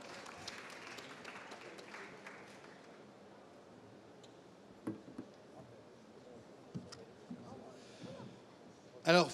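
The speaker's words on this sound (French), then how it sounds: "je demande à Romy Marmon, sous vos applaudissements avec Hervé, de monter sur scène" Scattered applause from an audience at a round-table event as speakers come on stage, starting as a fuller patter and thinning into sparse, isolated claps with quiet room noise between.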